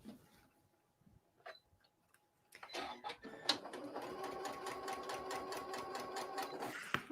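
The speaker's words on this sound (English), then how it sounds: "I can hear Amanda's sewing machine ticking away there." A sewing machine starts up after a couple of seconds of quiet room noise, running steadily with a fast, even mechanical ticking rhythm at moderate volume until the end, with no talking.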